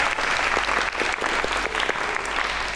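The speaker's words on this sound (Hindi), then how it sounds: "एक थी लैला के लिए तालियां बजाएं।" Studio audience of a talk show clapping steadily, a close, dense burst of applause with individual claps audible in the texture, continuing evenly without talk.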